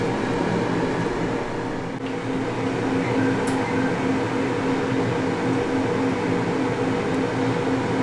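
A Ninja Foodi Max dual zone air fryer preheating: a steady, even fan hum with a faint tonal whine holds for the whole stretch, close and unchanging, with no voices.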